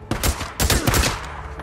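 Gunfire in the video game Days Gone: a quick, loud burst of rapid shots, then a second close burst after a brief gap.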